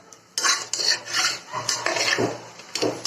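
Bottle gourd dumplings stirred in a pan over a low flame, a series of close, rough scraping strokes of a utensil against the pan bottom repeating every half second or so.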